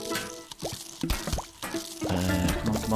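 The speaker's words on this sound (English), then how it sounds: "Drop the kelp there." Tangle Kelp is planted in the pool in the Plants vs. Zombies video game, giving a run of watery plops and drips with rising pitch. Game music plays underneath.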